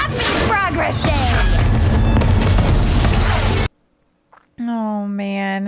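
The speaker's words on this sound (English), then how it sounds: "Oh man, she made her own fireworks show." Dense, continuous booming and crackling fireworks bursts from the animated series Arcane fill the first few seconds, then cut out abruptly; after a brief silence a voice begins speaking.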